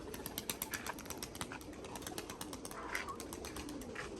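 A Tempo pigeon flutters and coos nearby, with quick repeated wing flaps and soft bird calls sounding steadily throughout at a faint level.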